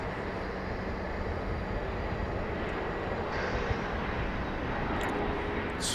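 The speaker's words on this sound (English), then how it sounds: "Bombardier Challenger 300 about to touch down." A Bombardier Challenger 300 business jet comes in to touch down at Dallas Love Field, producing a steady, broad roar of engine and air noise that stays constant throughout.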